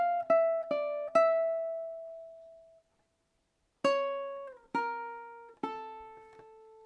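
Ukulele plucks out two short measures of a solo: three quick notes ring out and fade, then after a pause three more notes sound, clear and close with no other sounds.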